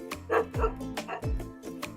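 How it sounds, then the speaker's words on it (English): A neighbour's dog barks in an animated children's read-aloud, giving a quick run of four or five short, bright barks close by within two seconds. "It's a dog."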